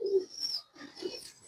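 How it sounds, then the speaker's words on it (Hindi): A large Teddy pigeon, a 17-number bloodline breeding bird, coos close by in two short, soft, throaty phrases split by a brief pause. "ये जी एक और 17 नंबर ब्लड लाइन में से मेन ब्रीडर बड़ा कबूतर है"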